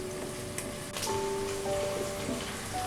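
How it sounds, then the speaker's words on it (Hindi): Sliced onions and green chillies sizzle and crackle in hot oil inside an electric pressure cooker, a steady close hiss with scattered pops. "प्याज को हमें गोल्डन होने तक फ्राई कर लेना है।"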